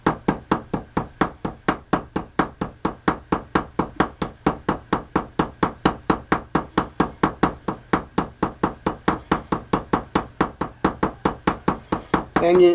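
Steady, rapid ball peen hammer taps while pinning a straight razor, dozens of evenly spaced sharp metallic strikes close up and continuing throughout with no talking.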